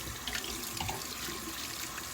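Water runs steadily from a tap while Fascia Blaster massage tools are rinsed at a sink. It is a soft, continuous splashing hiss, fairly faint.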